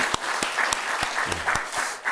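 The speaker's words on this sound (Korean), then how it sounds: "이 시간에 먼저 이 위대한 기도회를 허락하신 하나님 앞에 먼저 큰 박수로 우리 한번 감사하고 예배 시작하겠습니다" A church congregation at a Korean dawn worship service in Orange County claps together. The applause is moderately loud, with a few sharp, distinct claps standing out over the steady patter.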